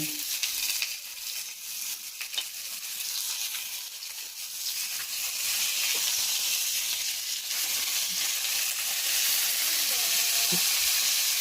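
Crab (alimasag) sizzles and fries steadily in a hot pan with chili, a dense, continuous crackling hiss that grows slightly louder partway through, with a few faint clinks.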